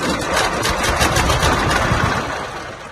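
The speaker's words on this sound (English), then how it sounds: "This is nothing more than a show and parade tractor." An old show and parade tractor engine idling outdoors, a steady loud close chugging rumble with an even rapid pulse that eases slightly toward the end, with no talk.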